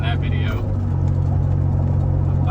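A Ford F-150 pickup with a full exhaust gives a deep, steady engine rumble from close by while someone talks over it throughout.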